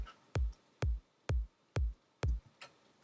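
Top kick drum sample layered in a Logic Pro electronic remix, five punchy isolated hits at an even tempo, close and loud, with a faint click and trailing tick between them.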